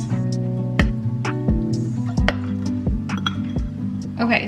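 A spoon clinks and scrapes against bowls while cacao powder is stirred into a honey-sweetened base, a steady rhythm of sharp taps close by, with a voice speaking over it.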